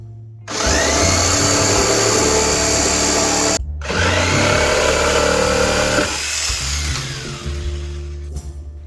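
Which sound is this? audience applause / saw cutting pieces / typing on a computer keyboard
saw cutting pieces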